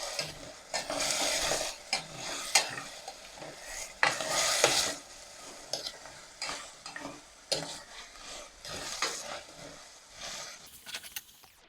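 Ingredients for batchoy tagalog sizzle in a pan while a utensil stirs them with irregular scraping clinks against the metal, close and clear, with no talking.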